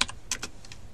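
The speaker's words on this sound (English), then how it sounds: "we're just going to type exactly what I have here" Brief bursts of keystrokes on a computer keyboard, a handful of quiet, close clicks in an uneven rhythm.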